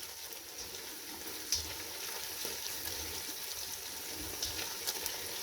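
Onions fry in melted butter in a pan with a steady, close, soft sizzle and crackle, a few small pops standing out over the continuous hiss.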